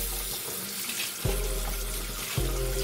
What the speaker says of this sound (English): Running tap water.